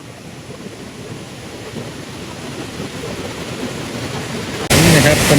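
A waterfall in a Thai national park, a broad steady rushing roar of flowing water that builds and suddenly grows much louder near the end.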